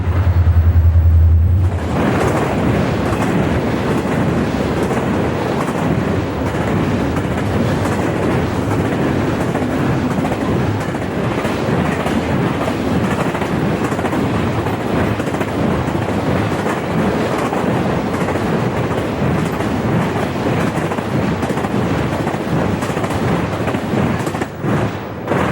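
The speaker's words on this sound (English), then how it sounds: "We turn to catch TV11 as it races under the signal bridge on its way into Conway." Conrail freight train TV11 races under a signal bridge into Conway yard, a loud, close, sustained rumble and roar of rolling cars with rhythmic wheel clatter that holds at full strength throughout.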